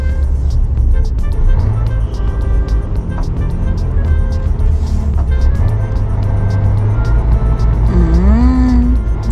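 Heavy trucks roll through a city centre in a loud, continuous low engine rumble with shifting drone, passing vehicles and road noise filling the whole stretch, a rising engine whine near the end.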